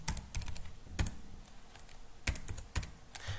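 Code is typed on a computer keyboard in a few scattered, close keystrokes with uneven gaps over a low background hiss, no speech.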